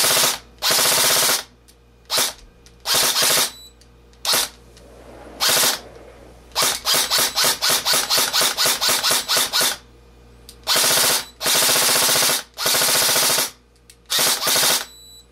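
NoNameMagee Thunder Maul foam blaster fitted with a MOSFET and running on an 11 volt LiPo battery fires loud, rapid mechanical bursts, several sustained full-auto volleys and one stuttering run of separate shots, broken by short silent pauses.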